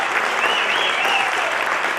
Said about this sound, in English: One more round of applause for Luz.